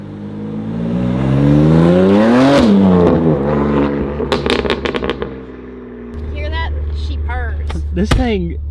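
A BMW M2 Competition's exhaust revs up and falls back, its tone rising and dropping, then breaks into a burst of sharp crackling backfire pops before settling to a low, rumbling idle with a few more blips.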